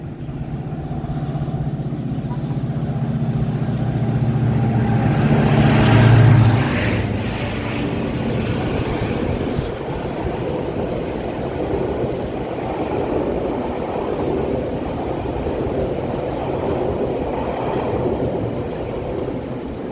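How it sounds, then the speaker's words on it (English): A train passes through downtown Toronto on a hot evening, a broad steady rumble and rattle swelling in the first seconds then rolling on continuously, fairly loud and close, with no talk. "Is there a train coming? Yeah, there is."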